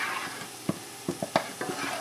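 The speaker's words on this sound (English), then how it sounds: "I'm going to stir in my butter." Butter is stirred into a thickening maple glaze in a pan, with soft scrapes and taps of the utensil over a low sizzle, several close clicks spaced unevenly.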